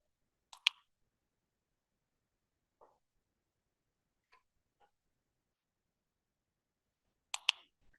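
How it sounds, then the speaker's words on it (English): Sharp clicks from a dog training clicker at a session with a dog: a double click near the start, a few fainter isolated clicks spaced apart in the middle, then another loud double click near the end, with quiet gaps in between. "So I'm clicking about every 2 seconds."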